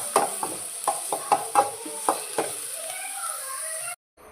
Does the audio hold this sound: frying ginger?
yes